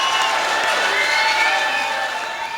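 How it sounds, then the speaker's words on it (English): Live crowd at a comedy and beatboxing tour show claps, cheers and whoops loudly and continuously, a dense mixed roar of voices and applause with no gaps. "I don't know what you're clapping for."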